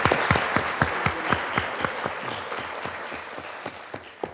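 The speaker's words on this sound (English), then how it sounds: "I think a real round of applause for the actors." Audience applause for the actors after a theater performance, a steady patter of many hands with a few louder claps standing out, fading slightly toward the end.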